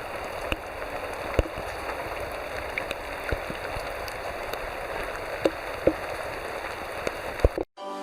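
Steady rain patters near a muddy gold mine road, heard as a close, even hiss with scattered sharper drops and taps, no voices, ending in a sudden cutoff.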